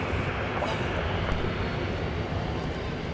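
Steady, loud jet engine rumble of an airplane taxiing at Minneapolis–Saint Paul airport on a winter day, a continuous broadband roar that holds level throughout with no voices.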